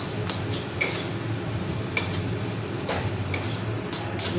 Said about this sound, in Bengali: এবার এটাকে ভালো করে মশলার সাথে ভেজে নিচ্ছি আমি